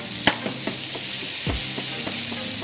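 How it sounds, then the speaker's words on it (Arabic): Blue cheese cream sauce with button mushrooms being stirred in a frying pan, giving a steady soft sizzle with a few light scrapes and taps of the utensil against the pan; no voices. "خلينا نحرك الصوص ننطر هالبلو تشيز تدوب"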